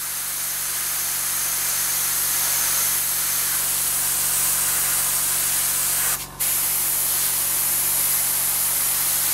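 Aerosol paint spray hisses steadily and loudly in a light coat over the raised surfaces of a Moebius Battlestar Galactica scale model, continuous and close with one very brief break near the end.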